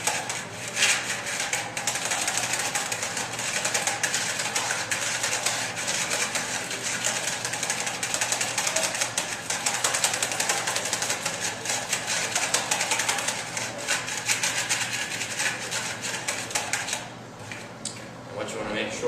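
Lime wash paint being agitated and mixed with a powered mixer, giving a steady loud whirring drone for most of the time that eases off near the end.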